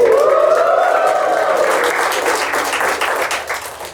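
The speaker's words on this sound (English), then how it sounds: "Give me a cheer." A stand-up comedy audience cheers and applauds loudly, a whooping shout over a wash of clapping that gradually fades.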